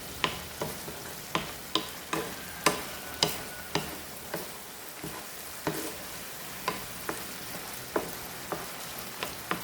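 Tuna flakes and diced potato fry in a pan, a steady close sizzle punctuated by regular sharp clacks of a spatula stirring and scraping roughly every half second, with no voices.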